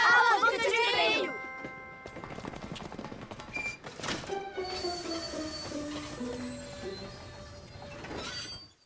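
Cartoon train brakes squeal in bright, sustained metallic tones that step downward, after a burst of loud clattering and a sharp bang, with talk-like sounds briefly at the start.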